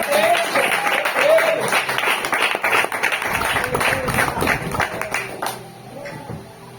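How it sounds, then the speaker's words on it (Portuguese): Congregation at a church service applauding in dense, steady clapping that fills the room, with voices and shouts mixed in, tapering off near the end. "Aplauda o Senhor."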